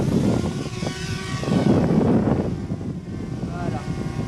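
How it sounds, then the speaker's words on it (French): A DJI Spark mini drone lifting off, its propellers giving a steady whirring buzz close by that runs through the whole moment, with people talking over it. "Donc maintenant, on va le faire décoller."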